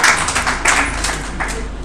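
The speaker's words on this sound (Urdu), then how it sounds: "اس کے لیے ایک بار تالیاں اور بجائیں" An audience at a literary gathering claps together, a steady patter of many hands that stays fairly loud and even throughout.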